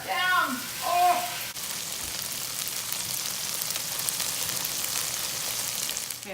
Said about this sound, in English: that is just some sizzling, beautiful tofu